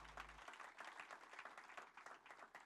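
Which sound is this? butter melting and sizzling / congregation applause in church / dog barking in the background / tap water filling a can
congregation applause in church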